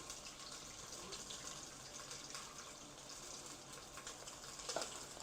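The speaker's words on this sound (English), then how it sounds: "add liquid to this here pot" Liquid pours into a pot for an oxtail glaze, making a soft, continuous gushing splash like running water that stays faint and steady throughout.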